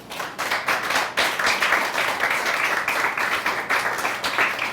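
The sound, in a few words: congregation applause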